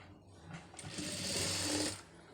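A sewing machine stitches folded cloth for a neckline design, its steady mechanical whir starting softly, swelling to a loud, close, continuous run for a second or so, then cutting off.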